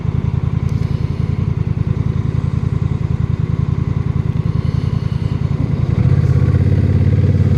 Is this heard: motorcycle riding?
yes